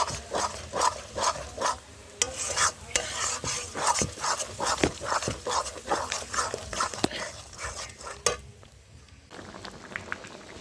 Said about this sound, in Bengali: এই দেখো বন্ধুরা এখন এটাকে আমি তেলে ভাজা করব।